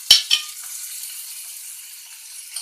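Curry leaves hit hot oil with two sharp spattering bursts at the start, then settle into a faint, steady sizzle that slowly fades, close by with no talking.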